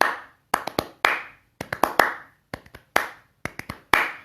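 Sharp, dry hand claps from the percussive score of the Kill Bill: Volume 1 final fight scene strike in quick clusters of two or three, each with a short ringing tail, repeating in a steady, syncopated rhythm.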